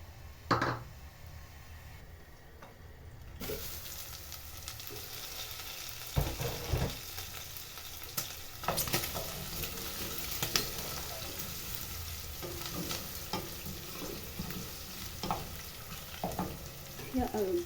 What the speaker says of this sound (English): Let's wait for the onions to cook.